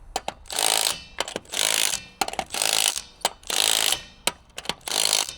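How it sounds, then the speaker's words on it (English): A pneumatic impact wrench snugs the lift bolts on a Kawasaki H2 in several loud, close bursts of rapid hammering, separated by short pauses and sharp clicks. "What we're gonna do is go around one more time with our impact just to make sure that these are good."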